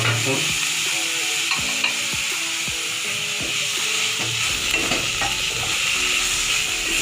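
Tomatoes and potatoes are stir-fried in a pan, with a spatula scraping in repeated, regular strokes over a constant close sizzle before the stirring loosens into a busier frying hiss.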